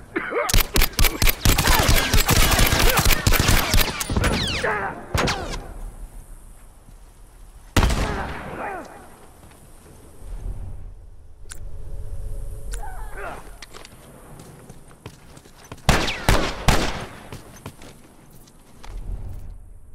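Rifle gunfire in The Last of Us online multiplayer: a dense burst of rapid shots in the opening seconds, followed by scattered single cracks and another short volley near the end, with voices talking between the shots.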